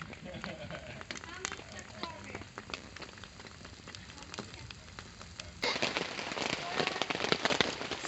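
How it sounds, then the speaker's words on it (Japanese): Heavy autumn rain at a campsite in Izu, Japan, a dense steady patter on surfaces that grows louder partway through, with people talking quietly beneath it. "すごい雨ね。"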